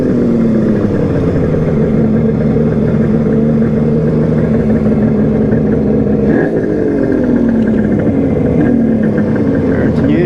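A Kawasaki KH500 H1 motorcycle engine idles steadily after warming up, a loud, close, continuous two-stroke burble with a slight dip midway and no voices.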